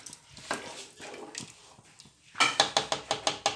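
A utensil stirs marinated chicken in a cooking pot of boiling water, with soft sloshing followed by a quick series of rhythmic scraping clinks against the pot, close by.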